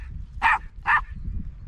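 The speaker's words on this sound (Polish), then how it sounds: "No to ty szczekasz." A dog gives two sharp, evenly spaced barks close by, each short and clear against a quiet room with only a faint low rumble.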